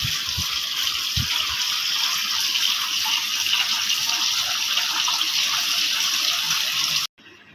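Water pours steadily over minced meat held in a strainer basket, a continuous close gush that runs loud and unbroken for about seven seconds before stopping abruptly, with a few low knocks at the start.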